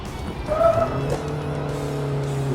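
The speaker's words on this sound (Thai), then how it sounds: "ดูการดึงของเครื่องยนต์" An Isuzu 1.9 Ddi Blue Power diesel engine hums steadily, its pitch holding and swelling slightly as it pulls, with a brief higher whine early on; no talking.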